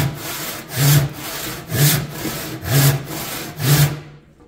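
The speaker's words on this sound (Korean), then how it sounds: "누를 때는 이 소리가 나고, 들 때는 이렇게 스치는 소리가 납니다." A hand saw cuts wood in four steady strokes, each pressing push giving a louder rasp and each lift a lighter brushing scrape, close and rhythmic with no speech.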